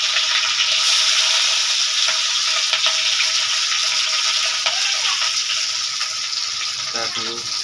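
Chopped capsicum sizzles and fries loudly in a hot pan of oil for a chana masala, a dense steady hiss with occasional stirring scrapes, while someone talks quietly underneath.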